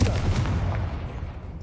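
A Confringo fire spell explodes in the video game Hogwarts Legacy: one loud, sharp blast at the start that trails off into a brief, fading rumble.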